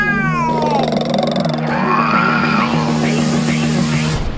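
A cat gives loud, drawn-out meows and yowling, rising and falling cries close by over a steady background tone. There is no clear purring and no talking.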